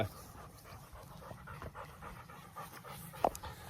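Dogs panting rapidly indoors during a home workout, a quick rhythmic breathy pant running throughout at moderate distance, with one faint sharp knock near the end.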